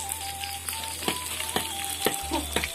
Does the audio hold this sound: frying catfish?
yes